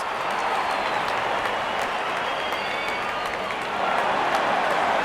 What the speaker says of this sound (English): Good innings and gets a grand applause.